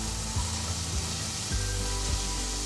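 Onions dropped into browned butter in a pan for baked beans, giving a steady, close hiss of frying with a low rumble under it, no voices.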